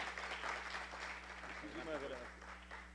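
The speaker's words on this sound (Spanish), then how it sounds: "nuestro distinguido poeta Mateo Morrison, a quien recibimos con un fuerte aplauso" Audience at a poetry conference during the Santo Domingo book fair applauds a poet with soft, continuous clapping. The applause is faint and distant, and a voice speaks over it.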